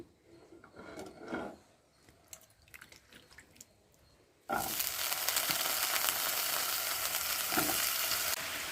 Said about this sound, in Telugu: ఇప్పుడు ఆనపకాయ ముక్కలు వేసుకుందాం